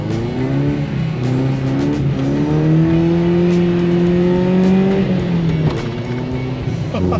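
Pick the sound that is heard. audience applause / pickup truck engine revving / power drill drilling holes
pickup truck engine revving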